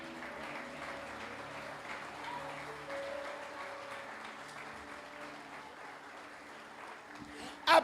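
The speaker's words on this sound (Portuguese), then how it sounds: "Dê uma salva de palmas ao Senhor." A congregation in a church claps together in steady, sustained applause. It sounds moderately distant and fairly quiet, with voices mixed in and a louder burst at the very end.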